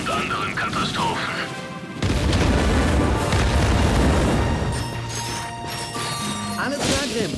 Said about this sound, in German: was in Zonis Namen ist da gerade explodiert?